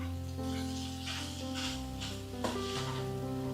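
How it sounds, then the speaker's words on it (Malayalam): Coconut paste with cumin, shallots and green chilli is stirred into jackfruit aviyal in a pot, a soft continuous scraping and gentle sizzle with a faint clink midway, close and steady, no voices. "അപ്പം ഇനി ഒന്ന് അരപ്പ് ചേർത്ത് ഇളക്കാം."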